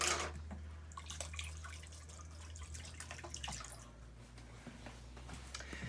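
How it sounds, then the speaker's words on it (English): Tap water runs and splashes over a spoon being rinsed in a kitchen sink during dessert prep, a steady close trickle with small clinks and drips and no talking. "Rinse off our spoon."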